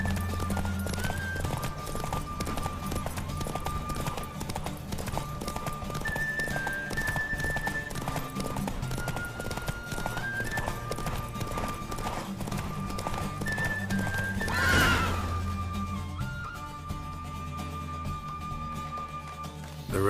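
A horse gallops in The Witcher 3 race with steady, rhythmic clip-clop hoofbeats over game music, plus a neigh partway through.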